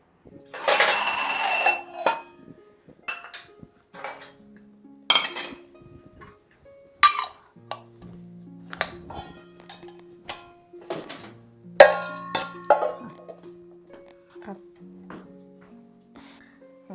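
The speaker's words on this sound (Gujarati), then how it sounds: "વાસણ વ્યવસ્થિત મૂકી દે" Dishes and utensils are set down and stacked in a home kitchen, with sharp clinks and clatters arriving in irregular bursts, the loudest early and near the middle, while faint voices are heard in the background.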